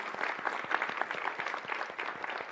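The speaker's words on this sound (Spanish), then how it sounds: "Un aplauso para Laura porque ha hecho una exposición." An audience at an ethics and technology debate claps for a speaker, a modest group of distinct hand claps in a loose, uneven rhythm, fairly close and moderately quiet.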